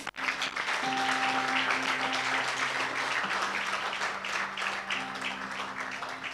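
Sustained audience applause at a church choir honouring ceremony, a steady dense patter of many hands with a soft instrumental tone sounding beneath it.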